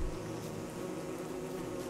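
Bees buzzing in the Don't Starve video game, a steady faint drone holding evenly throughout with no voices.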